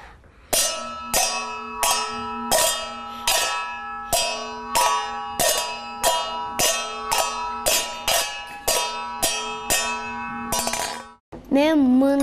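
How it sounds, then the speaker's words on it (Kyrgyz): A metal pot lid is struck again and again in a cartoon's home orchestra, giving about fourteen bright, ringing clangs at a steady pace, close and loud. A short wavering voice-like sound follows at the end. "Мен капкаттан үн чыгарабам."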